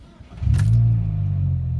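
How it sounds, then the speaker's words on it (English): A Chevrolet Cobalt engine cranks briefly and catches, settling into a steady, loud, low idle rumble close by, with no voices. "All right, car starts up fine, no issues there."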